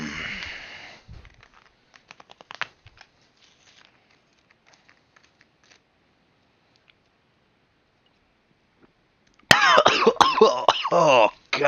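A person coughing and clearing the throat, a short burst of coughing at the start, then near silence with faint small clicks, and another loud, harsh cluster of coughs and throat noises near the end, close up.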